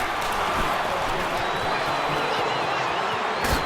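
Steady stadium crowd roar in Madden NFL 19, a broad, even wash of fan noise filling the whole stretch at moderate level, with a faint high whistle-like tone running through it and a brief sharper burst near the end.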